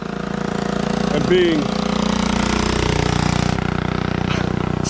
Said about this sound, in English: It's really everything a bike like that can do to make it up a hill like this.